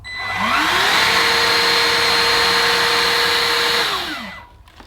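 A Gtech Prolite handheld vacuum cleaner whirs up, runs with a loud steady motor whine and airflow rush for about four seconds, then spins down and stops, close by with no talking.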